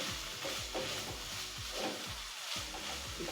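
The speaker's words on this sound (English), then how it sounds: "fry the onions, the garlic, the ginger" Onions, garlic, ginger and mushrooms fry in a pan with a steady close sizzle, while a spoon scrapes and stirs in a repeating rhythm throughout.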